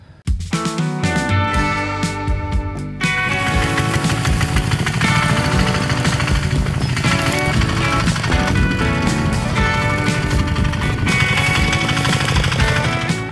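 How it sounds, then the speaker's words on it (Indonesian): A Firman FTL 900 HD diesel cultivator engine starts up and runs with a loud, steady, close chugging drone that holds through the rest of the stretch. "Kultivator Firman FTL 900 HD ini saya suka, dia powernya dari diesel ya, memang saya lebih suka dengan diesel"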